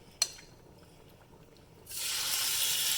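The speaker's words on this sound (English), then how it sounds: "Listen to that sizzle." A quick click, then a sudden steady sizzle as chicken meets hot oil, loud and even to the end.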